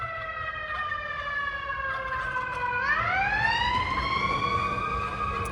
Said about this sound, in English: fire truck. I hear one more.